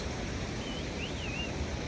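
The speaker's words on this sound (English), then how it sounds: "Look at that waterfall." Steady broadband rush of a waterfall at Deurali on the Annapurna Base Camp trek in Nepal, continuous and fairly loud, with a faint whistling tone drifting above it.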